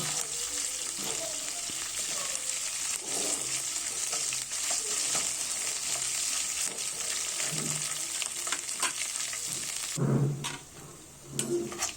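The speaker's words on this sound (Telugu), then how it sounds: "వేసుకొని దాన్ని కూడా బాగా కలుపుకొని మంచిగా ఫ్రై కానివ్వాలండి" Ginger garlic paste fries steadily in a kadai, a continuous sizzle with occasional stirring scrapes through most of the clip, easing near the end.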